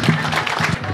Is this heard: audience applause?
yes